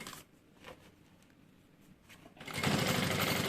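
After a quiet stretch with faint handling noises, a sewing machine starts up close and runs steadily, stitching fabric for a baby changing bag.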